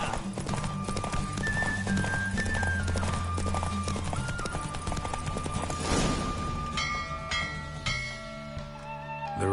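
Horse hooves clip-clopping at a fast gallop during a race in The Witcher 3, a steady loud rhythm running under music with a brief whinny.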